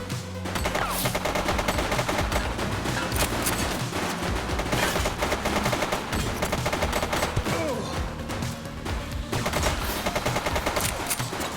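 Gunfire in The Precinct police game, dense rapid bursts and fusillades of shots that carry on almost without pause, loud and close, with no voices over them.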